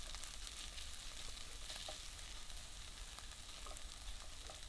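Onions sauté in a pan with salt and pepper for Lyonnaise potatoes, giving a steady, faint hiss and sizzle with occasional soft crackles and stirring, heard alone without talk.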